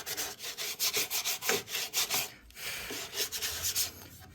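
Hand sanding wood with 120-grit sandpaper wrapped on a wooden block over an epoxy-repaired cradle, quick rhythmic back-and-forth rasping strokes, about a dozen close scratchy passes with a short pause midway.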